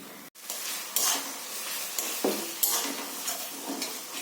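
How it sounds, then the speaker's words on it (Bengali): Onions fry in a pan at home under a steady loud sizzle. A utensil scrapes and knocks against the metal now and then while the onions are stirred. "পেঁয়াজটা ভাজা হয়ে গেল"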